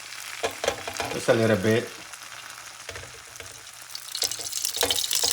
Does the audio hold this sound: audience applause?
no